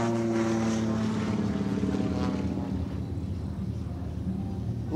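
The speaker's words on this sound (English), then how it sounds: "Listen to the sound of that big, powerful 515 horsepower R985 radial out in front" A 515-horsepower R985 radial engine drives an aerobatic airplane at a Sun 'n Fun air show, giving a steady, throaty propeller drone that stays loud and slowly fades with wind noise on the microphone.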